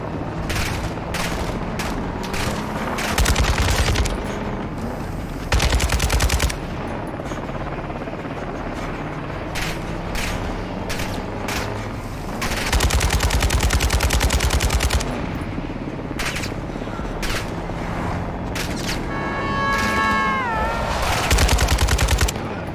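Light machine gun fire in the Modern Warfare 2 campaign, heard as repeated bursts of automatic gunfire with sharp loud volleys over a steady game soundscape. No speech.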